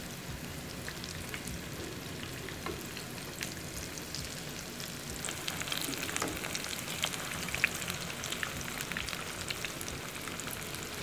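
Potato tikki patties fry in hot oil with a steady, soft sizzle and crackle that grows slightly busier midway, heard alone and fairly faint.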